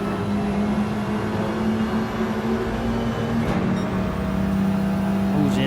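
Race car engine in Gran Turismo 7 at the High Speed Ring, a steady loud drone holding pitch then shifting as power goes on, with a brief swell near the end.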